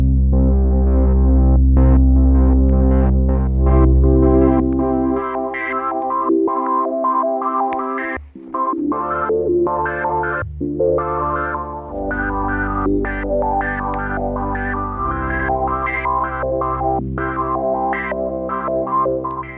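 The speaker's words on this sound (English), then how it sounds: "So that's your sample and hold." A Polymoog synthesizer running a sample-and-hold effect, a loud sustained chorused tone whose pitch steps randomly between levels, with a distorted, throbbing character and no voices.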